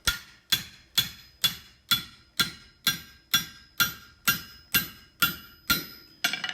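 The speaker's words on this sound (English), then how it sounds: "I'm just going to set this again over the pritchel hole and drift this out nice and round" Steady series of about thirteen ringing hammer blows driving a drift through hot steel set over an anvil's pritchel hole, evenly spaced roughly every half second, loud and close with a bright metallic ring and no talk.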